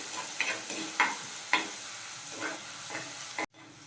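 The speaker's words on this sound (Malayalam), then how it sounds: "സവാളയും നന്നായിട്ട് നമുക്കൊന്ന് വഴറ്റിയെടുക്കും." Chopped onion sautéing in a pan for fish curry, a soft sizzle under several brief scraping strokes of a spoon, quiet and close, cutting off abruptly at the end.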